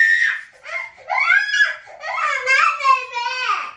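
Young child screaming and wailing in several long, high-pitched bursts with brief gaps between, loud and close, sounding partly like crying.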